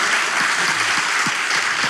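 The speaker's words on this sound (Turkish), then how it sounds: "Tamam oğlum alkışlayalım." A studio audience claps for a couple of seconds, a dense, even burst of applause that fills the room at steady loudness.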